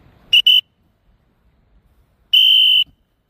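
A referee-style whistle is blown during a football drill: two quick short blasts, a pause, then one longer blast, shrill and loud against a quiet outdoor background.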